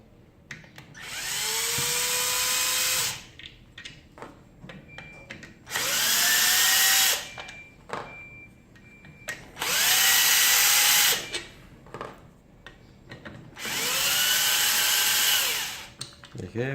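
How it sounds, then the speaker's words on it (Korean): An electric screwdriver backs out four bolts from the motor of a heat gun. Four separate whirring bursts of a few seconds each are heard up close, each with a rising and falling pitch, with handling clicks and quiet pauses between them. "십자 드라이버 또는 만약에 전동 드라이버가 있다면 뒤쪽에 보시면 4개의 볼트가 보이실 겁니다"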